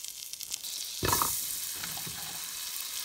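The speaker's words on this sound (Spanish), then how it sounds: "Ya coloqué toda la calabaza picada aquí en la cazuela." Diced squash dropped into melted butter in a pot gives a sudden loud sizzle that settles into a steady, close frying hiss, with no voices.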